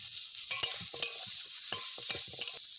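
Hog plums are stirred into a sour taro leaf curry in a pan: a spoon scrapes and stirs in repeated strokes over a light, continuous sizzle, close by and without speech.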